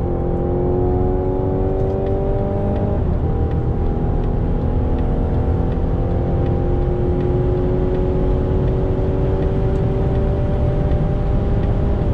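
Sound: Mazda CX-60 accelerating to overtake in sport mode

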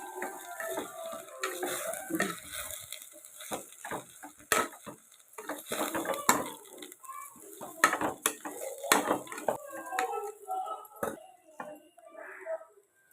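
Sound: stirring rice in oil in a pan

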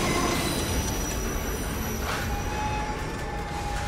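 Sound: runaway train rumbling and wheels squealing in Assassin's Creed Unity video game

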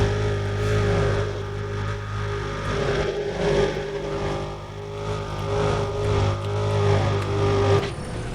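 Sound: car driving at top speed in video game Need for Speed: Undercover

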